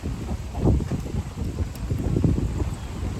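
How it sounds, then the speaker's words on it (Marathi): Strong pre-rain wind gusts buffet the microphone in a Maharashtra village, in uneven, rumbling bursts, loud and close, with no voices. "वारा एवढा जोरात सुटलाय"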